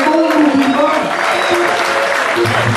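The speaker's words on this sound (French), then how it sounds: "Je vous prie d'applaudir très fort." A church congregation applauds loudly and continuously, with voices sounding over the dense clapping throughout.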